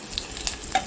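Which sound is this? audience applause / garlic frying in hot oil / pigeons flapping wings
garlic frying in hot oil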